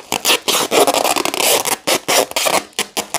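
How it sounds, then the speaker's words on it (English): Packing tape pulled and stuck around a plant package wrapped for shipping, with a pot inside, in a series of loud, close ripping screeches with brief pauses between pulls. "I'm just gonna tape it up."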